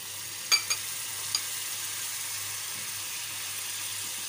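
Soy sauce sizzles gently in a hot pan with macaroni sauce ingredients, a soft steady frying hiss with a few sharp clicks near the start.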